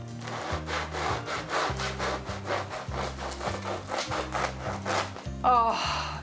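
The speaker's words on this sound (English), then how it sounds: "So now it's time to cut into this beautiful sourdough loaf." A knife saws through the crust of a freshly baked sourdough loaf in steady back-and-forth strokes, crisp crunching and rasping up close with a regular rhythm, a brief breath near the end.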